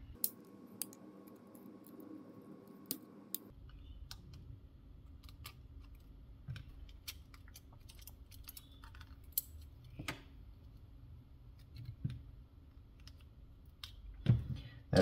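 The plastic casing of a PlayStation controller is pried apart by hand, producing faint, scattered clicks and small snaps of plastic, close and quiet, with no one speaking.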